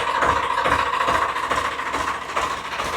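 A 1995 tractor's diesel engine idles close by with a steady, throbbing rumble and a buzzing mechanical hum, running evenly throughout.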